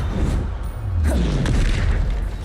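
A Bombarda spell explosion in the Hogwarts Legacy video game, a deep booming blast with a rumbling tail and falling tone, loud and close, followed by a further thump.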